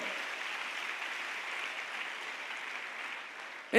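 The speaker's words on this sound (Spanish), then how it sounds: "Denle un aplauso al Señor." A church congregation gives a steady, even wash of applause from many hands, moderately distant and sustained, broken by a voice right at the end.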